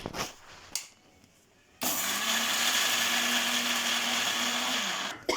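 A mixer grinder grinds maize kernels into paste, a loud, steady whirring roar that starts abruptly after a few faint clatters and runs for several seconds before cutting off.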